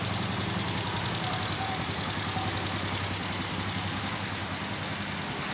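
A motorcycle engine idles steadily during a riding lesson, a continuous low rumble with a knocking throb, moderately loud and unbroken, with no talking.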